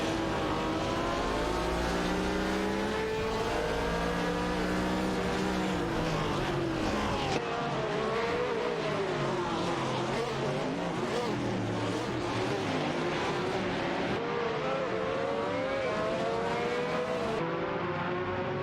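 Race cars in an AI racing video game, Lola and BRE Chevrolet among them, roar continuously with layered engine notes rising and falling through gear changes, loud and close, some shifting pitch under a faint voice.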